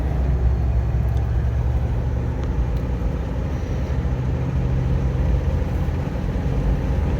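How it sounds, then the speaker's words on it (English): Steady broadband road and wind rush inside a 1997 Lexus LX450 cruising on the highway, with air buffeting around the side mirrors and a constant low engine and tire drone, no talking. "You do get some wind noise from around the mirrors"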